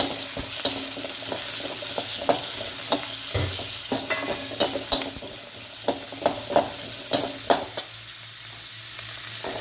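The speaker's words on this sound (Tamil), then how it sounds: "இதையும் நல்லா ஆயிலில் நல்லா வதக்கி விடுங்க" Food sizzles steadily in hot oil while a utensil repeatedly stirs and scrapes the pan, with sharp clacks of the spoon against the metal.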